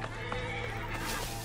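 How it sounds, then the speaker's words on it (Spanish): A horse neighs and whinnies in Assassin's Creed Origins, a steady game soundscape humming continuously underneath the brief call. "Este será el caballo de Mered"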